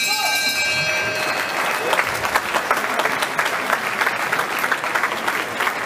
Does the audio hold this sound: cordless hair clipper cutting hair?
no